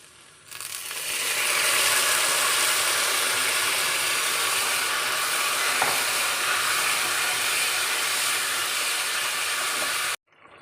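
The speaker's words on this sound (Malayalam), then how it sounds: "ഇനി ഇതിലേക്ക് കുറച്ച് ചൂടുവെള്ളം ഒഴിച്ചു കൊടുക്കാം." Hot water is poured into frying masala for a Palakkad chicken and ash gourd curry, setting off a loud, sustained hissing sizzle that rises quickly and holds steady for several seconds before stopping abruptly.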